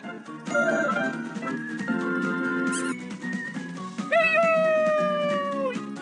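A cartoon-style cat meows amid bright synthesized children's music, with a rising, whiny call prominent near the end over the steady backing tune.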